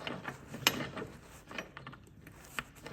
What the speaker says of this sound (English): So I'm just starting to bolt the frame down now.